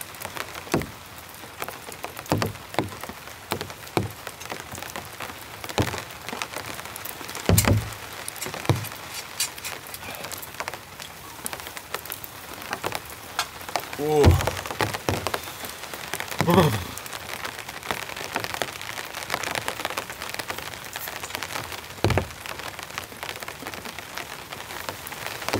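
Heavy rain falls steadily on a winter storm campsite as a cold front moves through, a constant dense patter with a few louder drops and brief knocks standing out.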